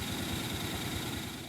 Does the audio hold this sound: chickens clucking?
no